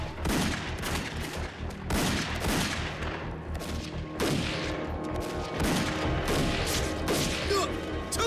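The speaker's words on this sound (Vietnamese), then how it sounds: "Các anh em, bắn mạnh lên cho tôi." Soldiers' rifles and machine guns rattle in a battle scene, dense overlapping bursts of gunfire with sharp cracks and booms repeating close by, shouts faintly mixed in underneath.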